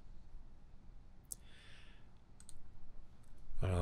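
A computer mouse click sounds once near the end over a quiet background hum, preceded by faint soft taps, with no talking.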